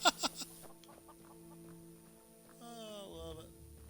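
A chicken in the video game Skyrim clucks faintly: a few quick sharp clucks at first, then a drawn-out warbling call near the end, over quiet game ambience.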